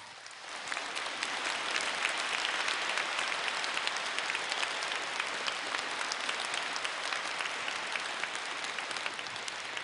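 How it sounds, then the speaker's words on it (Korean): An audience at a Christian Advent lecture gives a steady round of applause to welcome a poet to the lectern, dense even clapping filling the hall and holding throughout. "김용택 선생님을 큰 박수로 이 강단에 모시도록 하겠습니다."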